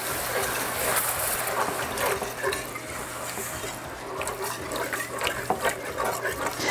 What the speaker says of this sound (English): We're gonna whisk and pour.